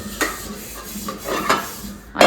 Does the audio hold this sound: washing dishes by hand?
yes